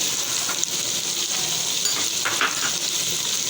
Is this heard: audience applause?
no